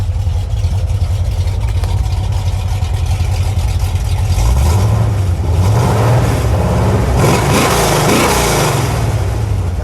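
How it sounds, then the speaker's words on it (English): A loud, throaty AMC Javelin SC/Rambler muscle car exhaust rumbles nearby, its pitch rising and falling as the engine is revved several times. "I think this has got just such a great exhaust note."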